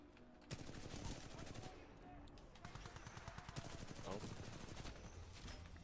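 Rapid automatic gunfire in a video game, dense bursts of machine-gun shots rattling almost continuously, fairly faint and compressed, with a few louder individual reports.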